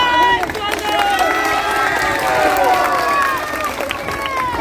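Dense crowd noise at a political rally in Uttar Pradesh, with an audience clapping and cheering under a busy wash of voices, steady and loud for the whole stretch.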